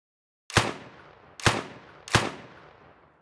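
Three sharp, isolated gunshots from a small rifle in a homemade horror video game, each a loud crack with a short decaying tail, spaced about a second apart after a moment of silence.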